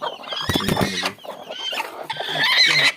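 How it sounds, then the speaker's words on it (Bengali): Three brooding hens sitting on eggs give low clucks and throaty murmurs close by, with a burst of scratchy rustling and shuffling in the middle. "এখানে 3টা মুরগি কুচে বসছে"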